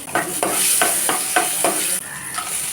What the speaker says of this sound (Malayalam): ഇനി അതിലേക്ക് നമുക്ക് ഇത്തിരി കടുക് ഇട്ട് കൊടുക്കണം കാൽ ടീസ്പൂൺ കടുക് ഇട്ട് കൊടുക്കാം ഉഴുന്നൂരിപ്പ് ഇട്ട് കൊടുക്കാം